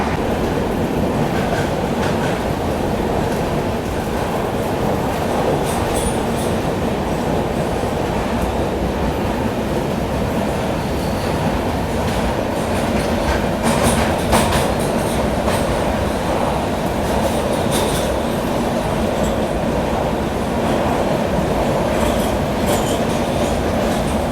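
A train rumbles loudly and continuously inside a tunnel of about 6.5 kilometres on the Madgaon to Mumbai route, with a dense roar and occasional rattling clicks from the wheels.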